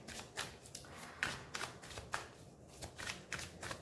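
Tarot cards being shuffled and drawn, giving a steady run of soft papery riffles and flicks close by, with no talking.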